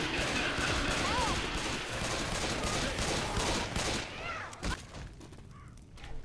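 Rapid gunfire in the video game Left 4 Dead 2, a dense continuous barrage of shots with players shouting over it, tapering into scattered bursts near the end.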